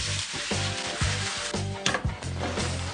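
Burrito filling sizzles in a pan up close, with repeated scraping and stirring knocks of a utensil against the pan throughout.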